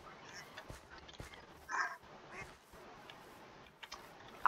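Minecraft ducks give faint scattered quacks over quiet game ambience, with one clearer, louder quack in the middle.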